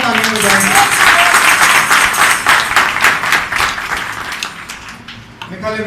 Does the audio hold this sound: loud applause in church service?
yes